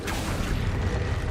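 The Accio summoning spell in Hogwarts Legacy lands as a brief, full-bodied magical whoosh with a low boom, filling the short moment at steady loudness with no voice over it.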